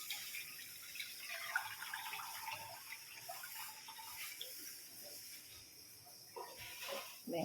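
Water is poured off rice being washed for cooking, a soft trickling and splashing that rises and falls, faint and close.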